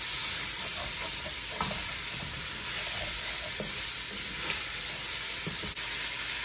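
Onions for beef stew sizzle loudly in a pan as a utensil scrapes browned bits off the bottom, a dense continuous hiss broken by several short scraping strokes.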